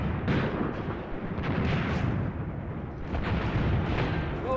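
Rolling gunfire and artillery of a massive World War II battle in the video game Graviteam Tactics: Volkhov Front, a continuous dense rumble of overlapping shots and booms, loud and sustained.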